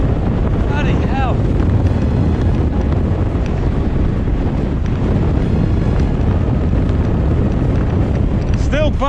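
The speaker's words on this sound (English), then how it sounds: "I don't know if you'll be able to pick up just how bloody strong that wind is" Strong gusts batter the microphone during a mountain bike ride on the Brecon Gap route, a loud, constant roaring buffet that fills the scene with only faint traces of other sounds beneath it.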